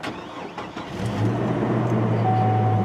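A 2005 GMC Canyon pickup with automatic transmission cold-starts: a brief cranking whir, then the engine catches and settles into a steady, loud idle hum, heard close with no talking.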